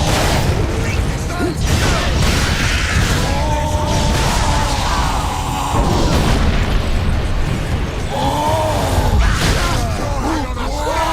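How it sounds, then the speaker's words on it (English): Power core explosion in the video game Warhammer 40,000: Space Marine, heavy rumbling booms and bursts layered with dense battle noise and mechanical clatter, loud and sustained throughout with no pause. "Power core explosion."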